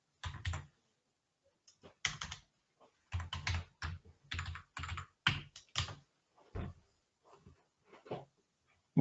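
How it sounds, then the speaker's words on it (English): Someone types a password on a computer keyboard, with close, crisp bursts of key clicks in short irregular clusters separated by brief pauses. "we need to type our password again"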